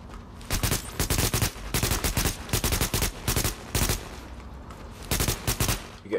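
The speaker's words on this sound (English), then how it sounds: "So I'm gonna shoot at you." Gunfire in The Division rattles out in repeated loud automatic bursts, steady bursts separated by short gaps across the whole stretch with no talk over it.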